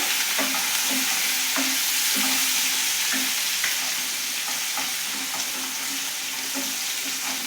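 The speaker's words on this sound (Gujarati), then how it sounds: "લસણ મરચાંને આપણે પહેલાં સાતળવા દઈએ સ્લો ગેસ ઉપર." Crushed garlic and chillies sautéing over a low gas flame for panchratna dal, a steady sizzle under regular, rhythmic spoon-stirring clicks, close and without talk.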